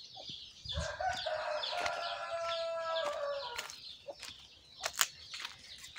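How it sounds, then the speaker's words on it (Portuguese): Chickens in a large farm henhouse cluck and squawk, with a drawn-out rooster-like crow in the middle, all fairly faint and distant with no talking. "E tem um tanto de galinha do galinheiro"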